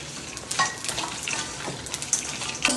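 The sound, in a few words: roasting whole spices (cumin, fennel, cloves) in a pan for garam masala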